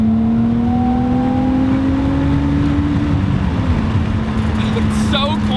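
A 1983 Toyota Celica fitted with a big-turbo 1JZ engine cruises along, its steady drone and whine heard from inside the cabin, fairly quiet and constant with a slight pitch shift partway through.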